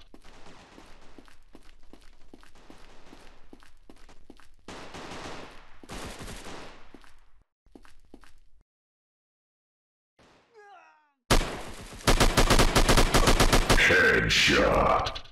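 Rapid automatic gunfire in the shooter Critical Strike CS, starting with scattered sharp shots, pausing briefly, then erupting into a loud, sustained burst near the end.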